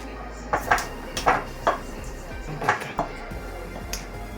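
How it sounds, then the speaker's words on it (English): Dry baking ingredients (flour, sugar, baking powder and salt) mixed in a bowl: a handful of separate clinks and taps of utensil against the bowl, irregular and fairly close, with quiet gaps between. "Now we mix the dry ingredients."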